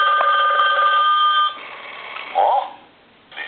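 A goofy animated toy telephone rings with a bright, steady electronic trill, then breaks into a few warbling chirps before fading to quiet, alone with no talk.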